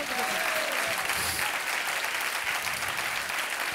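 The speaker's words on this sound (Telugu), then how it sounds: "ఈ మాటకు సమ్మతించిన వాళ్ళందరూ చప్పట్లు కొట్టండి." A church congregation at a Sunday service clapping loudly together, a dense sustained burst of applause that fills the hall for several seconds.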